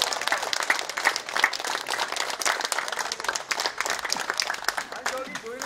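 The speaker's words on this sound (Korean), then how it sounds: "뜨겁게 박수 한번 주세요" Residents at a community meeting in an Icheon apartment complex applaud steadily with a dense patter of many hands, mixed with voices in the crowd throughout.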